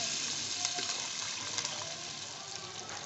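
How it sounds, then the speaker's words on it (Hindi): Beef stock (yakhni) from boiled beef is poured into a pot of aloo gosht pulao, giving a steady gushing, splashing liquid sound that runs throughout, close and moderately loud, with no talk. "इसमें मैं ये जिसमें मैंने अपना बीफ बॉईल किया था वही पानी जो उसकी यखनी थी वही मैं इसमें डाल रही हूँ"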